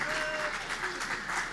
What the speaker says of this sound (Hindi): देखो इनका पूरा गैंग तालियां बजा रहा है